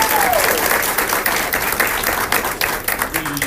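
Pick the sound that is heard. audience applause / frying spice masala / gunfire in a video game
audience applause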